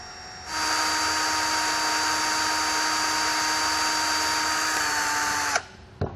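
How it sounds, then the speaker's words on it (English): A power drill spins a bit through screw holes to widen them while fitting a Hughes Autoformer surge protector, a steady high whine starting abruptly, holding for about five seconds, then cutting off with a brief spin-down. "What I want to do is come back here with the drill bit and just make these holes a little bit bigger."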